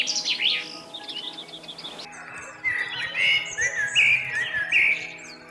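Bright, high birdsong with rapid trills and whistled phrases, fairly close, repeating steadily over a quiet outdoor background on a sheltered coastal path near Cruden Bay, Scotland.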